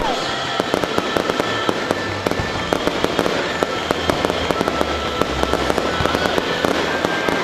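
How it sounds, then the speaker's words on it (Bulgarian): New Year fireworks over the main square in Ruse, Bulgaria, part of a six-minute display: a dense, unbroken barrage of sharp bangs and crackling pops, with quieter voices faintly underneath. "Невероятната гледка от 6-минутната заря можеше да се наблюдава дори от близките"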